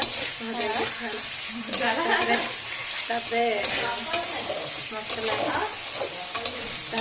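Potatoes fry in hot oil with a strong, continuous sizzle, and a utensil knocks and scrapes as they are stirred, close and loud with no voices.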